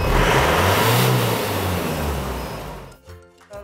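A diesel engine on a smoke opacity emission test, measured with a HESHBON HD-410 meter, roars at full rev and then winds down, the revving fading as the throttle drops, with speech heard faintly at the end.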